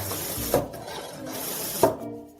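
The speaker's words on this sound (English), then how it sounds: "now I'm going to pump it up" A hand pump pushes air into a homemade water jet bottle, giving two separate squeaky, rasping strokes about a second apart under a steady hiss.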